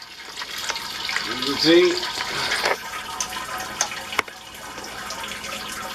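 Water drains out of a Grainfather brewing kettle in a steady, fairly close rush and gurgle, with someone talking over it.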